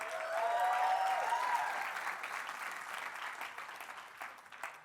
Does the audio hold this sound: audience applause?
yes